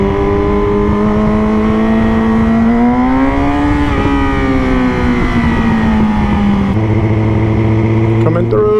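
A Yamaha R6 sport motorcycle engine drones loudly and steadily while riding through traffic, its tone rising and falling gently, then dropping to a lower idle-like pitch near the end.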